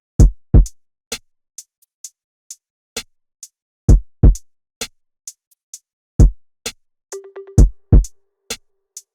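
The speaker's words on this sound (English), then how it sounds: "These are the drum patterns." Sparse, slow-bouncing R&B drum pattern programmed in FL Studio: deep kicks, crisp snaps and hi-hats spaced out in an unhurried groove, with a short tonal hit near the end, dry and without talk.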